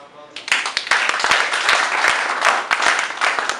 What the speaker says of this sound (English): How a big hand of applause for the media.